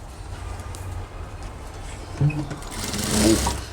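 A sewing machine stitches fabric for a child's school pants, running steadily and close with a rhythmic mechanical whir that grows louder near the end. A voice speaks over the machine.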